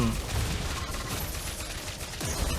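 In Mobile Legends, a hero fires on an enemy turret, giving a quick, continuous patter of shots and impacts at moderate volume over game background noise.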